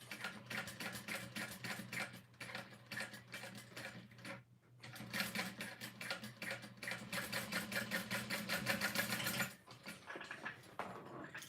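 A sewing machine stitches a folded-down seam on a small bag, running in a fast, even mechanical rattle with a short pause midway and a slowdown near the end, close by and without talk.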